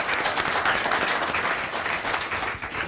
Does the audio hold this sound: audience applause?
yes